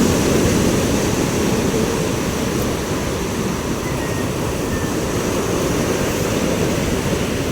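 Ocean waves wash in a steady, close, broadband roar of surf that runs unbroken throughout with no voices over it.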